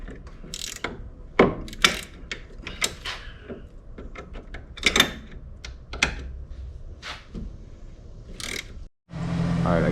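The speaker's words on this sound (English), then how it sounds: "Alright, I got that nut tightened up." A ratchet wrench clicks in short, irregular bursts while tightening a nut on the suspension of a BMW 528, with close metallic ratcheting and a few louder clanks.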